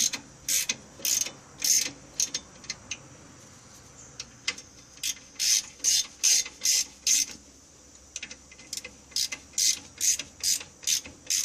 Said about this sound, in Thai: ค่อยๆขันเข้านะครับ ขันเข้าให้พร้อมๆกันนะครับ